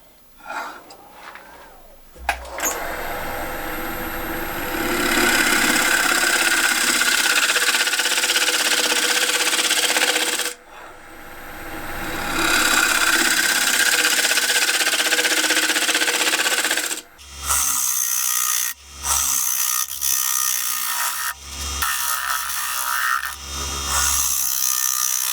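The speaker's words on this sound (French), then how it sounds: "Normalement, on enlève moins d'épaisseur avec un racloir." On a wood lathe spinning a bowl, a scraper cuts across the wood surface, producing a loud continuous rasping hiss that pauses briefly midway, then breaks into choppy, stop-start scraping bursts toward the end, with no voices.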